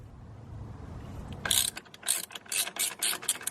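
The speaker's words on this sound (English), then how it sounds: "What you want to go ahead and do is first start by removing the positive battery terminal, then the negative." A ratchet loosens the 12-volt battery terminal on a 2016 Kia Soul EV: quiet at first, then a quick run of close, sharp ratcheting clicks.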